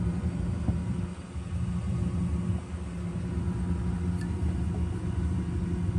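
A household furnace runs steadily throughout, a continuous low rumble and hum with no talking over it.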